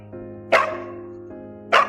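A small white dog barks twice in a film scene, two sharp close yaps about a second apart over a low steady hum.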